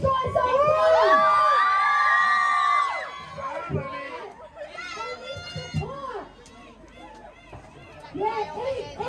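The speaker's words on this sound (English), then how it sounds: "Come on, cheer these guys on!" A lively crowd of adults and children cheers, shouts and whoops at a donut eating competition, loud at first and then in scattered bursts, with voices calling out over the excitement.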